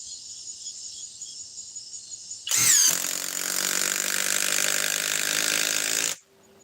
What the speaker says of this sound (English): Back to the subcompact impact wrench from Cobalt, which is in 3/8.